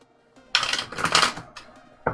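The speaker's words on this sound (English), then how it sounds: "I will start shuffling the cards for you." Tarot cards are shuffled by hand in a quiet room, giving short papery riffling bursts with a final flutter, close and fairly soft.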